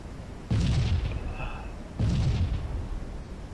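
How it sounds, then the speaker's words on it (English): Two heavy rocket blasts in Halo 3 land roughly a second and a half apart, each a loud booming burst that rolls off into a lingering rumble, with a faint electronic tone sounding in between. "Rockets are down on our flag."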